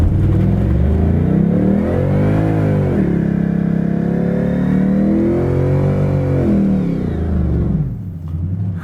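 A Ford Mustang Mach 1 V8 revs up close and loud, its deep burbling note climbing and dropping through several throttle blips before settling back toward idle near the end.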